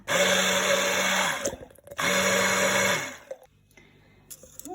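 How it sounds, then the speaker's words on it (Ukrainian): A blender pureeing spinach leaves with oil whirs loudly in two long bursts, pausing briefly between them, then cuts off, leaving faint clattering. "додаємо сюди олію і гарно перебиваємо блендером до однорідної маси"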